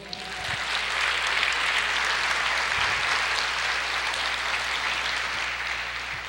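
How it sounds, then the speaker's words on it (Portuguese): A church congregation claps for the Lord during a sermon, a sustained even wash of applause from many hands, moderately loud and unbroken throughout. "Você pode aplaudir o Senhor?"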